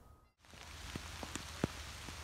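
Rain pours down outdoors beside a garden plot with a soft, steady hiss of drops on the ground, broken by a few louder close splats and patters.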